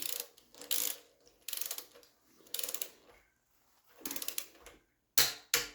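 A ratchet torque wrench tightens the cylinder head bolts on a 1972 Triumph TR6 engine. Several close, crisp bursts of rapid clicking come in quick strokes, separated by short silent pauses.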